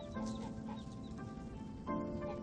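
Hens clucking around a coop with their twenty-day-old chicks, a dense overlapping flock chatter that rises into louder calls near the end, continuous and close with no talking.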